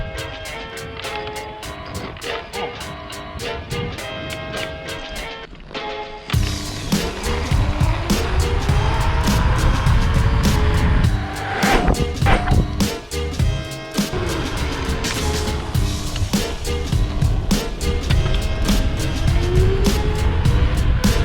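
A Begode Master electric unicycle accelerates hard, its motor whine climbing and falling in pitch over loud rushing wind noise, with a quieter rhythmic ticking at the start before the run begins.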